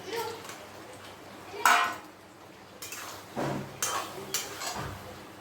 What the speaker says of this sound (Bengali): এবারে আমি পটলগুলোকে দিয়ে দিচ্ছি।